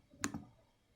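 A single sharp mouse click on a software button, quickly followed by a softer second tick, close and alone in a quiet room.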